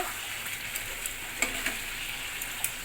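Ground garam masala stirred into yogurt chicken kosha as it fries in a pan, a steady close sizzle with light periodic scrapes of the stirring spoon.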